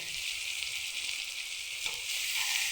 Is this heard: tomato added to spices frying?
yes